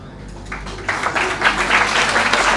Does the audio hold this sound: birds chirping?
no